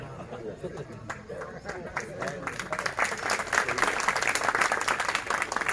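An audience at a spiritual discourse by a Jain acharya breaks into applause that swells and grows denser toward the end, with crowd chatter mixed underneath.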